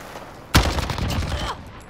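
A weapon fires in a first-person shooter video game: an ISO gun fitted with a muzzle brake and compensator, heard as a sharp loud onset followed by a dense, sustained burst of gunfire lasting over a second.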